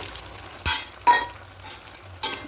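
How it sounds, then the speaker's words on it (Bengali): Vegetables with bori being stirred in a cooking pan: a few separate scraping strokes and light metallic clinks of a spatula against the pan, spaced irregularly over a faint low background hum. "দিয়ে খুব ভালো করে মিশিয়ে নেব"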